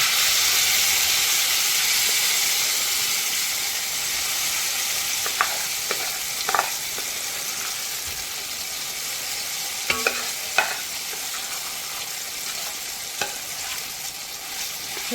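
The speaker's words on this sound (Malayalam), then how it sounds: "ഒരു 2 സ്പൂൺ നെയ്യ് ഒഴിച്ചു കൊടുത്ത് അതിലേക്ക് നമ്മളെ ഇപ്പം അതാണ്ട് ഉടച്ചു വെച്ചിരിക്കുന്ന നമ്മുടെ ചക്കക്കുരു ഇല്ലേ, അതങ്ങോട്ട് ഇട്ട് കൊടുക്കാം" Mashed jackfruit seeds frying in ghee, giving a continuous close sizzle with steady hiss, while a spoon stirs and scrapes the pan in occasional sharp clinks and knocks.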